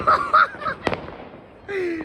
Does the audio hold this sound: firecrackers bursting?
yes